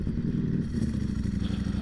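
Ducati Streetfighter V4SP motorcycle with an open exhaust: a loud, close engine with a rough, pulsing low rumble that holds steady throughout, heard alone with no speech.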